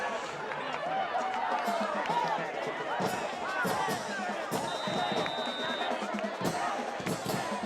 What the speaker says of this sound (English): Huge crowd here tonight in Ben Bullitt Stadium